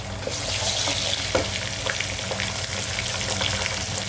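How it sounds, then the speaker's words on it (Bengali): Onion with a little ginger paste frying in a pan, a close, continuous crackling sizzle with small stirring scrapes and taps, no voices over it. "পেঁয়াজটা হালকা ভাজা হয়ে গেলে এর মধ্যে হালকা পরিমাণ, খুবই অল্প, হাফ চা চামচ আদা পেস্ট"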